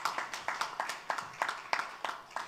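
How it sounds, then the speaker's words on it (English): Scattered hand claps from an audience at a football league launch event, a run of separate sharp claps at a steady uneven rhythm, fairly faint and moderately distant, with no voices over them. "Give her a round of applause as well."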